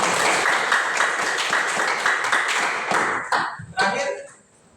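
An audience at an event claps on cue, a loud dense burst of applause that carries steadily for a few seconds, then breaks up into a few scattered claps and fades away.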